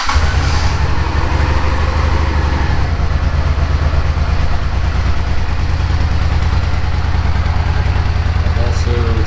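A 1984 Honda Shadow 500 motorcycle engine with its choke on starts and settles into a steady, loud, close idle with a low throbbing pulse.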